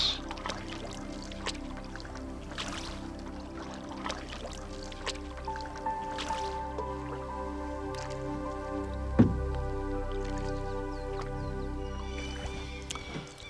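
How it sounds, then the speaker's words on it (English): Gentle canoe paddles dip into calm water on a Norwegian outing without a motor: soft, sparse splashes and drips recur at an easy rhythm over a low steady hum, faint and close. "This time, no motor, just the gentle sounds of the paddles."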